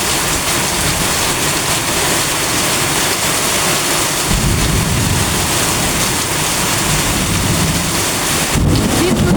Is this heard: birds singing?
no